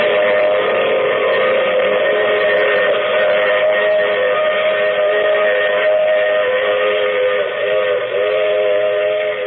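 A loud, steady train whistle sound effect from a 1951 radio drama blows continuously in a sustained chord, with the low rumble of a moving train beneath it and no voices.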